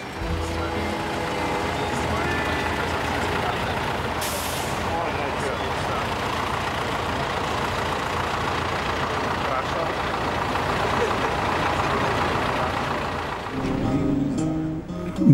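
Buses idling and moving in the dark as they carry gas field workers, a continuous low engine rumble with occasional beeps, and someone talking over it throughout.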